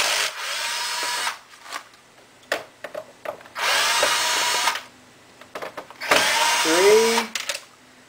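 Power screwdriver backing out small threaded screws from a PS3 console, three loud whirring bursts separated by quiet handling clicks and faint background sounds.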